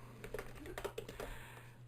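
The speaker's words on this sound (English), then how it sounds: "So if I just type Jarvis" Rapid keystrokes on a computer keyboard, a quick run of light clicks over a low steady hum, fairly quiet and close.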